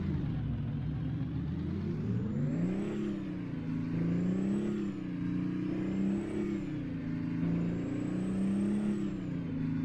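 A Kenworth K100 cabover truck engine in American Truck Simulator idles and revs in a steady low drone, with repeated rising and falling swells and a faint high whine, and no talk.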